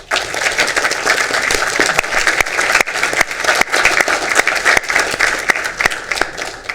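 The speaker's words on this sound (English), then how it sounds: "So please, a round of applause to these young ladies." An indoor audience applauds a girls softball team at a city council meeting, with steady, dense clapping from a crowd that continues throughout without letting up.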